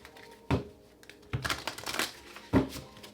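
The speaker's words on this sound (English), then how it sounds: "Two more shuffles." A deck of tarot cards is shuffled in three quick bursts, each a sharp riffle with brief papery flutter between, close and fairly quiet with no talking.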